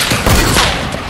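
Heavy sniper rifle fire in a video game, a short burst of loud booming shots close up, sharp and compressed, with no speech.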